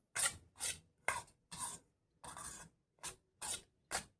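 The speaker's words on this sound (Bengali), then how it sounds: "এই যে সুজিটা আমি ভালো করে দুধের সাথে মিশিয়ে নিলাম" Semolina is worked into milk in a bowl with about eight distinct rasping strokes, each a short gritty scrape, close and evenly paced with brief silent gaps between them.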